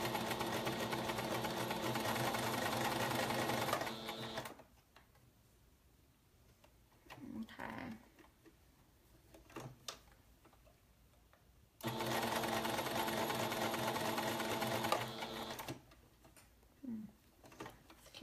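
Sewing machine stitching a pullover in steady whirring bursts of several seconds each, separated by quiet pauses with soft handling of fabric, close and moderately loud.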